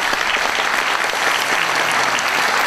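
A crowd at a book launch event applauds to welcome politician Choo Mi-ae, steady dense clapping throughout at moderate loudness with no voices.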